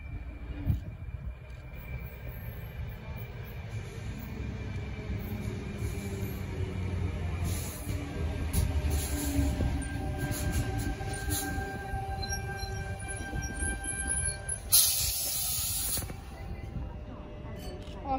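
A train rumbles steadily through a station in Rockdale, low and continuous, with metallic squeals and a brief bright screech near the end.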